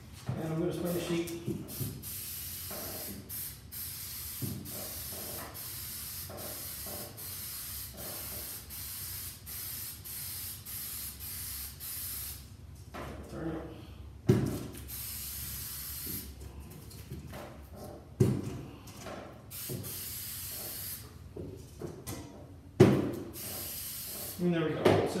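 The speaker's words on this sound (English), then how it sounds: "I'm going to spray the sheet." A spray can is sprayed across a sheet of material while building an FPV drone frame, giving several long hissing bursts up close with short pauses between them and a few knocks and clatters toward the end.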